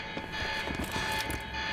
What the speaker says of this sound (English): That alarm's not gonna make my life any easier.